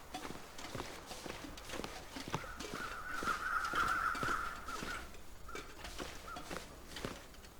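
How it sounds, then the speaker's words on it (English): Crows caw at a distance in the video game The Long Dark, a drawn-out harsh call rising in the middle, over steady clip-clop footsteps and a low misty outdoor ambience. "I can hear the crows, but I can't see them."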